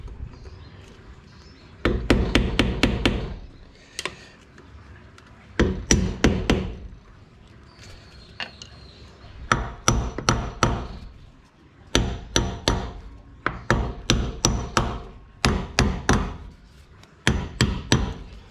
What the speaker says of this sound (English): Just tapping from side to side. I'm using a brass hammer.